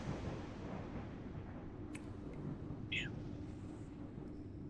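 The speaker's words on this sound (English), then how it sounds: "Cave sounds with thunder." Low, steady rumbling cave ambience with distant thunder in a tabletop role-playing session, a continuous dark wash broken by a couple of faint sharp cracks.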